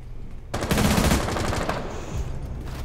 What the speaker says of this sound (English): apparently they're shooting each other now